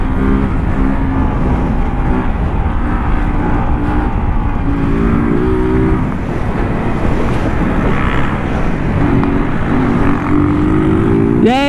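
Street ride on a motorcycle in traffic, the engine droning and rising through several revs amid steady wind rush, with a passing vehicle near the end.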